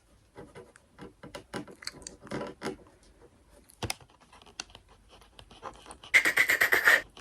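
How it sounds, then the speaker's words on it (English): Faint, irregular scratching and scurrying from something inside a roof, with scattered light clicks and rustles, then a louder burst of scrabbling near the end. "it's like scurrying in one place"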